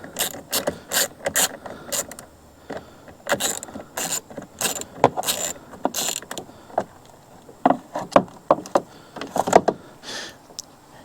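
Ratcheting clicks from a hand ratchet with a 10mm socket loosening the negative battery terminal on a Honda Pioneer utility vehicle. Short bursts of rapid clicks come in irregular runs with pauses between them, close up, with no talking.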